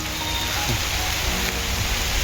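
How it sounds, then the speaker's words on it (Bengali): Steady, dense rainfall pouring down in the Dooars region of North Bengal, beside green forest, a continuous hiss of drops on surfaces with no pauses. "এটা ডুয়ার্সের বৃষ্টি, শুরু হয়েছে কখন থামবে জানি না"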